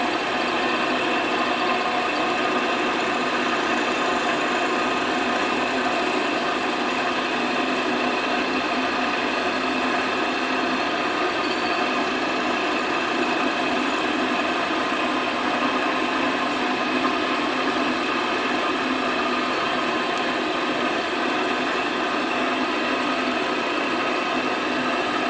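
Mortising attachment machine running continuously at a steady pitch, a loud, unbroken mechanical drone and hum lasting throughout with no pauses and no voices.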